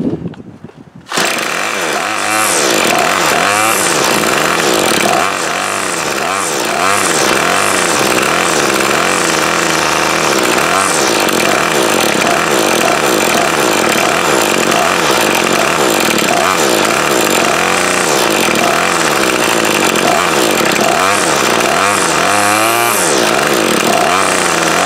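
A 25cc MTD Bolens BL110 curved-shaft string trimmer engine runs steadily outdoors in the cold at a slightly raised idle, a loud continuous buzzing drone with fluctuating revs and no talking.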